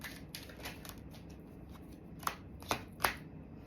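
Tarot cards are shuffled in quiet, soft riffles and flicks, with a few sharper snapping slaps near the end, close and faint with no voices.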